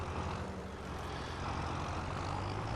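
A new tractor in Farming Simulator 25 drones with a steady, unbroken engine roar, loud and close, with no other sound over it.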